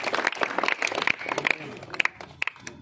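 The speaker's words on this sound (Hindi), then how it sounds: "मिस्टर राम बाबू बिंद के लिए जोरदार ताली हो जाए।" An audience at an AWPL event applauds Mr Ram Babu Bind, with scattered hand claps rising and falling in short bursts mixed with crowd noise, a moderate burst that thins out toward the end.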